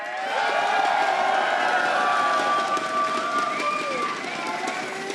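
Crowd at an esports event, Heroes of the Dorm, with loud, sustained cheering and whooping from many voices filling the space, alongside an amplified host voice.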